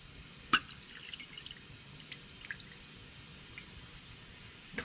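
Water drips from a Toro mower carburetor in sparse, faint drops. One sharper drip comes near the start and a few softer ones follow against quiet background hiss, with no talking.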